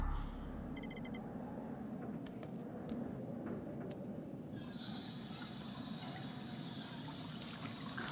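Steady running water fills a bath in the video game Until Dawn, a continuous broadband rush that holds for the whole stretch and grows brighter partway through, with no talking over it.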